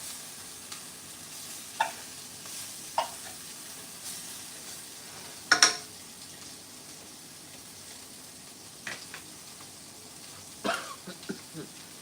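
Jerk meat frying in butter in a pan, a steady soft sizzle broken by occasional sharper pops and spatula scrapes, close and moderately loud.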